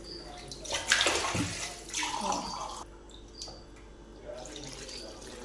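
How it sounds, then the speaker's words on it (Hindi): Water poured from a glass into a pan of spiced potato curry in a home kitchen, a splashing pour in bursts over about three seconds, then quieter liquid sounds, fairly close. "तो इसमें हम डालेंगे हाफ़ गिलास पानी का।"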